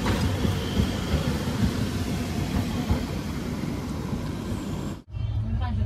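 A train of the Konkan Railway passing at Somatane station, a loud, continuous rumble and rattle of wagons rolling close by, cutting off abruptly near the end, with a voice briefly audible.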